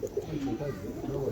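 Pigeon cooing softly in a short series of low, rolling coos, faint and close, with light background noise.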